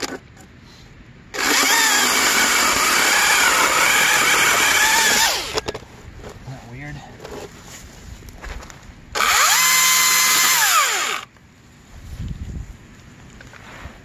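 An electric Husqvarna chainsaw cuts into ash wood in two loud, close whining bursts, the first about four seconds long and the second shorter, separated by a quiet pause with faint knocks.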